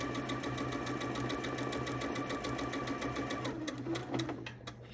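A sewing machine stitches a quilt seam with a steady, rapid mechanical rhythm that slows and stops near the end, fairly quiet and close.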